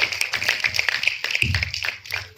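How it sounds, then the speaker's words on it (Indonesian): Scattered hand claps ring out at a film press conference for Rihanna, quick uneven slaps close by with a low murmur of voices underneath, lasting only a couple of seconds. "Tepuk tangan dong buat Rihanna."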